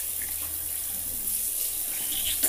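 A bathroom tap runs steadily while someone washes their face with soap, making a soft, continuous water hiss heard close and fairly quiet, with no speech.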